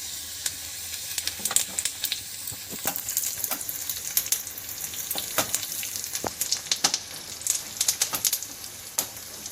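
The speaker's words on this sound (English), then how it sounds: "Now we are adding curry leaves." Curry leaves crackling in hot oil for a tadka on Mangalore-style mutton sukka, a constant close sizzle dotted with sharp pops and spatters throughout, no voices.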